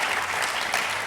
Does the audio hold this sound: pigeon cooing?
no